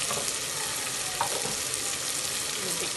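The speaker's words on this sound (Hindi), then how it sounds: "तो अब हम डाल देते हैं इसके अंदर पाया जो उबल गया था।" Boiled beef trotters sizzle and fry as they are stirred into an onion masala, a steady close crackle with occasional scraping stirs throughout.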